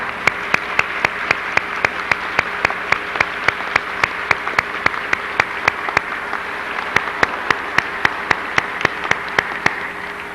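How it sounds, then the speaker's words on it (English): A Hall of Fame ceremony audience gives dense sustained applause for new inductees, with sharp, evenly spaced rhythmic claps standing out over the steady crowd clapping. "I think we owe them all a big collective round of applause"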